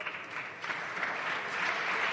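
Applause fills a parliamentary chamber after a speech, a dense and even patter of many hands clapping at moderate distance that runs unbroken for a couple of seconds, with no speech over it.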